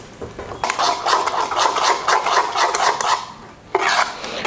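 A spoon working through idli batter with sour curd and curry leaves in a bowl, rhythmic wet scraping strokes close up, pausing briefly before a final sharp scrape.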